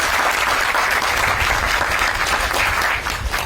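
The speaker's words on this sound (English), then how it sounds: "So round of applause for them" Audience applause for the mayor and Micah Kāne at a groundbreaking for homes for Maui wildfire survivors, loud, dense clapping running steadily throughout.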